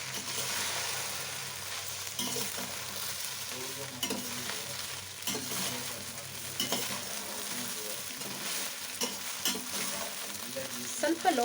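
Cut idli pieces shallow-frying in oil over a low flame, a steady soft sizzle with intermittent scraping and clinks as the pieces are stirred and turned in the pan.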